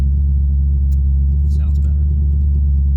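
A tuned car engine idles with a steady, deep rumble after a new flash, running rich and smoky, loud and close with faint higher sounds over it.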